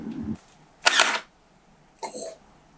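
A small toy gun fires with sharp mechanical clacks: a low thump, then a loud snapping burst and a shorter click, close by.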